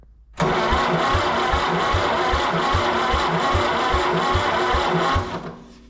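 A Massey Harris 30 tractor engine starts and runs rough on two of its four cylinders, thumping in a steady, uneven loping beat for about five seconds before cutting off.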